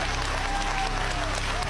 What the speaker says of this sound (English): look at all the guys over there clapping